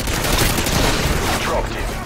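Rapid gunfire rattles in a close, loud burst in Modern Warfare 2, dense overlapping shots filling the whole moment with no gaps.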